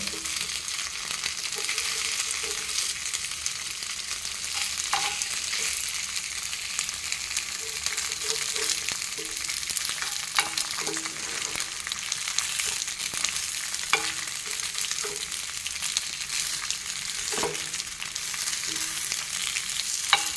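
Pathrode, colocasia leaf rolls, frying in a pan with a continuous soft sizzle and occasional scraping stirs, moderately close and steady, with no voices.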